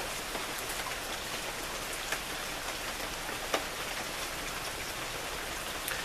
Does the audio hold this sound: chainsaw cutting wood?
no